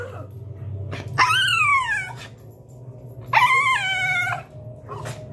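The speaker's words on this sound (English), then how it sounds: "How dare they bark at you inside the house?" A dog lets out two long, drawn-out howling barks, close and clear, separated by a short pause over a low background hum.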